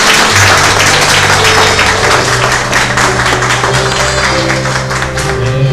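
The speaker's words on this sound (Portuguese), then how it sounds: "Dá uma salva de palmas para esse Deus maravilhoso." Congregation at a Portuguese-language church service applauding, a dense steady wash of clapping throughout, with a sustained low musical tone underneath, likely an organ or keyboard.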